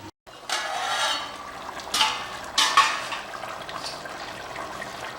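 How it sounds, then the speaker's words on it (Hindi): Simmering mutton stew in a covered pot is stirred, giving close, soft scraping and wet swishing strokes with a few brighter metallic surges over a low, steady simmer. "अभी हम बीच बीच में इसको हिलाते जा रहे हैं"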